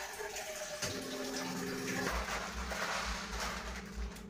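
Water running from a tap into a container at home, a continuous close rushing flow whose tone shifts as the vessel fills, with no talk.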